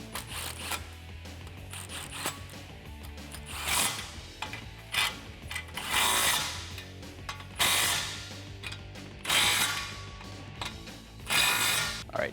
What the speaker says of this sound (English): Grab your 15mm socket and tighten these down.